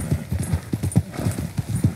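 A horse's hooves clip-clop in a quick, steady galloping rhythm while being ridden in the Red Dead Redemption 2 video game, close and clear throughout.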